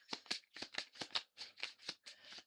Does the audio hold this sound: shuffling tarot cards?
yes